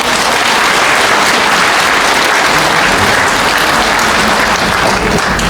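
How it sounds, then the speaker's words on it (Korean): A congregation at a regular Buddhist dharma service bursts into loud, dense applause that carries on steadily and close up the whole time. "박수!"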